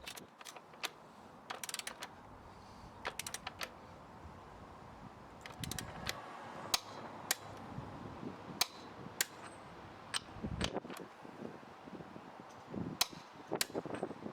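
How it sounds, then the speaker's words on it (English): A wrench works on the rear wheel nut of a BMW S1000RR motorcycle, set to 100 newton metres. Scattered sharp ratcheting clicks and metallic snaps come in irregular bursts, close and alone without talk. "To finish off the job, the wheel nut was tightened."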